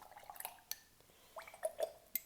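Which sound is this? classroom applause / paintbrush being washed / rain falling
paintbrush being washed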